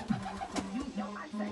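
Pigeons released from their loft coo repeatedly in low, rounded calls, close by and fairly quiet, with a few soft bursts of wing and movement noise.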